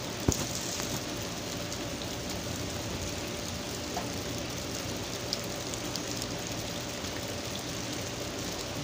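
Steady rain ambience in a Minecraft-style video game with mobs around the yard, a constant broadband hiss with scattered droplet ticks and a faint low hum, heard alone at low level.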